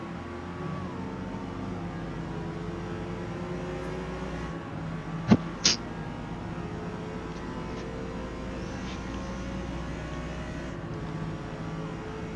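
Race cars in Forza Motorsport, B class at Daytona, including a Ferrari and a Corvette, pass with a steady engine drone and shifting tones, continuous and moderately loud, with a couple of sharp clicks in the middle.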